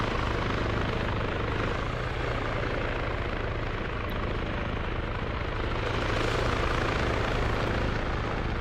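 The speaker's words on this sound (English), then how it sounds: "The unarmed MI8 appears to be trying to duke it out with a transport helicopter." Mi-8 transport helicopters in an Arma 3 multiplayer battle, a steady loud rotor thump and turbine roar that runs unbroken and close throughout.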